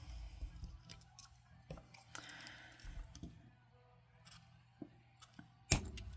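Scissors snipping during bead bracelet making, a few soft close clicks and cuts spread over a quiet room tone, with one sharper snap near the end.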